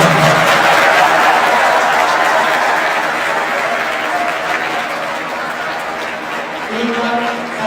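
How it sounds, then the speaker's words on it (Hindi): Audience at a live launch event breaking into loud applause and crowd noise that stays broad and steady, easing slightly, with some chatter and voices mixed in. "इन सबके लिए जोरदार तालियां।"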